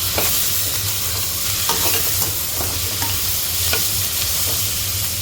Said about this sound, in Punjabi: ਇੱਧਰ ਆਪਣੇ ਬਣ ਰਹੇ ਨੇ ਆ ਦੇਖੋ ਪਿਆਜ਼